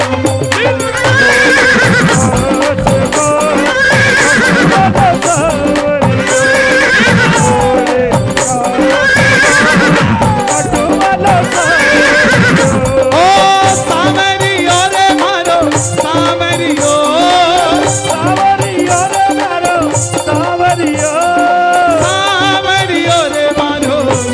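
Recorded horse neighs and whinnies recur over loud devotional music, with a galloping rhythm running throughout.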